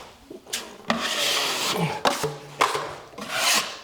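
A drywall knife scrapes and rubs joint compound across a wall in several separate rasping strokes, close and loud, each pass ending abruptly.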